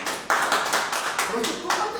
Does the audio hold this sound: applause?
yes